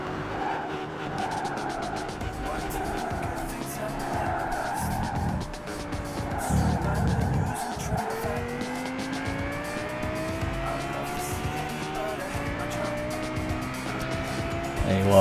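Race car in Gran Turismo 5 on PS3, seen from the dashboard view, its engine howling loud and steady as it downshifts through rising and falling revs, with tires squealing and skidding throughout.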